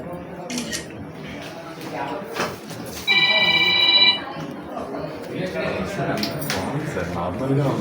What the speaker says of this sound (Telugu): ఎవరిది ఫోన్